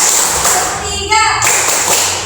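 A class plays a rhythmic clapping game, producing quick close claps and thuds mixed with chanting voices of a teacher and students.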